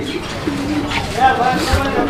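A pigeon coos softly close by, low throaty murmurs mixed with a person talking nearby.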